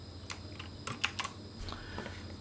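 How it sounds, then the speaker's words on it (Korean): A single key on a computer keyboard is pressed during design software work, giving a few light, sharp clicks among soft taps in a quiet room. "키보드 X를 누르시면은"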